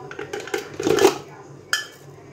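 Ice cubes dropped into a jamun juice mix with lemon juice, black salt and sugar, giving a few hard clinks and a brief clattering rattle against the container, close up.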